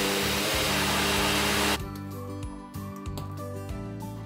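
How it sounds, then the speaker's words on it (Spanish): Electric mixer beating the ingredients for homemade Nutella ice cream with vanilla and salt, a loud steady whir close up that drops to a lower, uneven drone partway through with a few small bumps. "Ahora puedes batir todos los ingredientes juntos hasta que queden bien mezclados."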